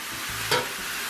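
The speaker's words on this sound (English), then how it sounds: "You hear that sizzling" A steady sizzle of shaved beef frying on a hot griddle, with a brief scraping stir in the middle; no voices.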